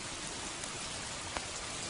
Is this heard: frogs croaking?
no